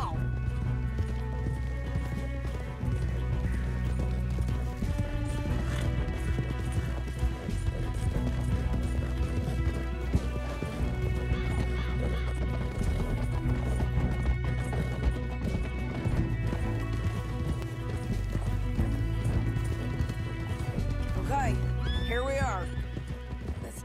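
Horses whinny and hooves pound at a gallop in the video game Red Dead Redemption 2, beneath a dense, steady music score, loud and continuous throughout.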